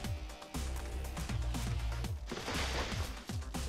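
Gunshots from the video game Shadowrun Returns fire in a quick, steady run of sharp cracks, about six or seven shots over a few seconds, loud and close over a dense layer of game music and effects.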